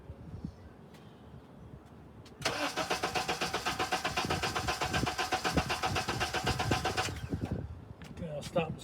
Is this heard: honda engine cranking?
yes